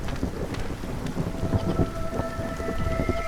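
A rising thunderstorm in the video game Against the Storm: steady rain, wind and low rumbling roll through, with tonal game music lines entering partway through.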